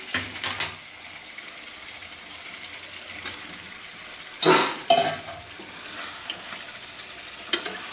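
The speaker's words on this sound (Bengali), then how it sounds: "এবারে আলুটা দিয়ে দিই" Potato pieces go into a pot of chicken that is already cooking: a few clattering knocks and a loud splashy thump near the middle, then a low, steady simmer and scattered faint stirring scrapes.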